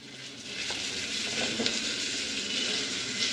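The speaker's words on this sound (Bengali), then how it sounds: "দিয়ে আমি ভালো করে নেড়ে নেবো আগে" Carrots, potatoes, pumpkin and beans with whole black peppercorns being stirred in a hot pan for chicken stew, a steady close sizzle with occasional soft scrapes.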